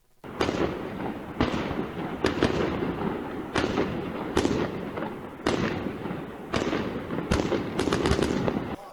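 Fireworks set off during clashes at the Al-Aqsa compound in Jerusalem crack and boom in about nine sharp bursts at irregular intervals. Each loud report trails off between blasts, with a faint background murmur.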